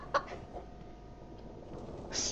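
A chicken in the horror video game Evil Nun gives a few faint, brief clucks over quiet game background noise, followed by a short sharp sound at the end.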